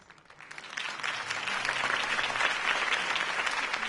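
A crowd bursts into applause after a campaign speech, the clapping swelling from a quiet start into a full, steady roar of many hands that continues without pause.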